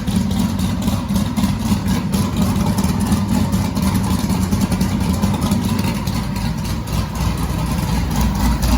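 A big-cam twin-turbo LS V8 idles close by, a loud, lumpy, uneven low rumble that stays steady throughout with no talking over it.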